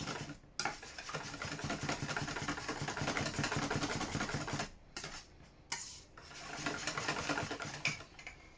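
Whole eggs being mixed in a bowl for pumpkin pie: a quiet, rapid scraping and rubbing rhythm of a utensil against the bowl, steady for several seconds, pausing briefly, then resuming.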